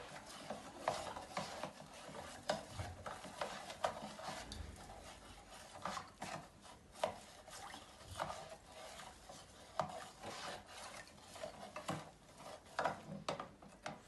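Stirring a water mixture in a close-up demonstration, a steady quiet rubbing and rasping with faint ticking clicks repeating throughout, with no talk.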